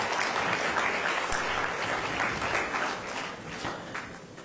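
Sustained applause from a crowd at a corporate excellence awards ceremony in Goa, a dense, even wash of clapping that holds steady and slowly fades slightly toward the end.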